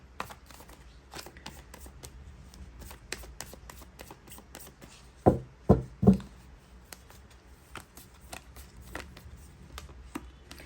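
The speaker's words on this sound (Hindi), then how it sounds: "इसके बाद मैं टैरट से कार्ड्स निकालने वाली हूँ गाइस" Tarot cards are shuffled and drawn in a quiet room: soft scattered flicks and taps, with a quick burst of three sharper slaps midway.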